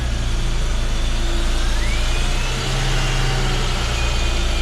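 A BMW car engine running with a muffler fitted, idling steadily and fairly loud throughout, with a slightly uneven low rumble and no voices over it.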